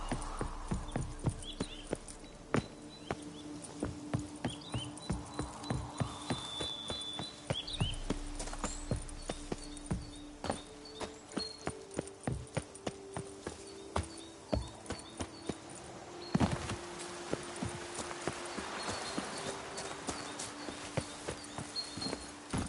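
Horse hooves gallop steadily in The Witcher 3, a fast, even clip-clop close by, running continuously over faint ambient game sound.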